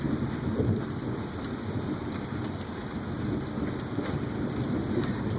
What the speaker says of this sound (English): Except for a giant raging storm cloud coming in.